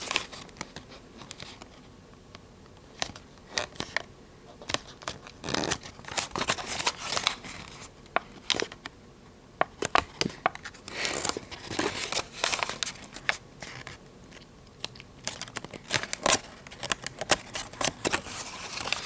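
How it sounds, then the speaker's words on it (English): Paper being folded and creased for an origami coffee mug, with bursts of crinkling, rustling and sharp crease snaps close to the mic, uneven and irregular, and no speech. "make this part a mountain fold right here"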